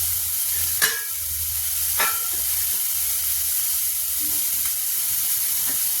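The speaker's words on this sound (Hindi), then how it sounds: "गैस को स्लो कर देते हैं, और जब तक मेरा ये प्याज पक रहा है" Sliced onion frying in a pan over a low gas flame, giving a steady close sizzle and hiss broken by a few sharp spatters and stirring clicks, with no one speaking.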